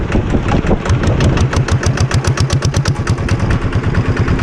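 A petrol engine on a 7 1/4 inch gauge miniature locomotive at Eaton Park Railway runs close and steady, with a regular pulsing chug throughout.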